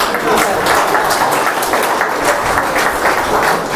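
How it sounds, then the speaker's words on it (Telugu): An audience at a public gathering bursts into loud, sustained applause, dense clapping filling the whole stretch without pause. "మీరు చప్పట్లు మనస్ఫూర్తి కొట్టండి"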